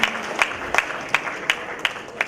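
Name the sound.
audience applause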